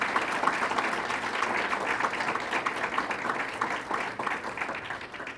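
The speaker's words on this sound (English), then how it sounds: "Let's give her a round of applause, County Executive Joni Mahoney." A steady round of audience applause for a county executive at a state fair redesign announcement, dense continuous clapping from a crowd that carries on for several seconds before tapering at the end.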